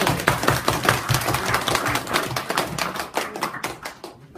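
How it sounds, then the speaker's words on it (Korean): Audience at an outdoor political rally in Namwon claps in a brief, uneven burst that fades out over a few seconds, moderately close, with faint voices. "박수!"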